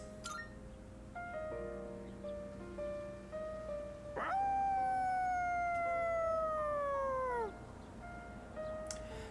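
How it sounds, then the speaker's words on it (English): A dog in the Persona 3 video game lets out a single long, loud howl that swells and then slowly falls in pitch, rising over soft game music and fading after a few seconds. "Koromaru's howl resounds throughout the quiet shrine"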